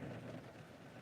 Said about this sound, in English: It's raining, man. See all that rain?